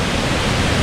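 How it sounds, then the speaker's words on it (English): Roaring waterfall in a Cebu, Philippines canyon, a dense, steady wash of rushing water heard up close and loud, with no other sounds. "It's 15 meters straight into the waterfall and"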